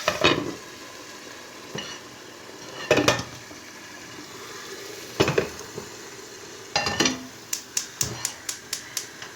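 Vegetables for a winter moussaka, eggplant among them, cooking in a pan: scattered clanks and scrapes of stirring over a low sizzle, ending in a run of sharp regular clicks.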